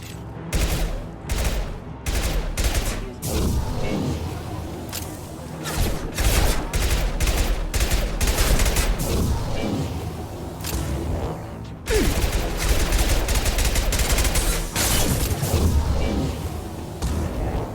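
Gunfire in the video game Mass Effect 2, with rapid volleys of loud, sharp shots in repeated bursts over about eighteen seconds and brief pauses between them.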